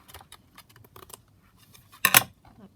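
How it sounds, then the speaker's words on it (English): Scissors make a handful of light snips trimming the paper edge of a handmade journal, ending in one louder, closer crunching cut near the end, with no talking. "I'll just trim this edge here."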